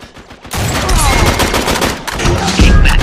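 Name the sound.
sniper rifle gunfire in Uncharted 3 video game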